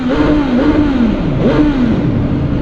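A 2018 BMW S1000R motorcycle engine revs loud and close, its pitch sweeping up and down in a couple of rising and falling pulls with no talking over it.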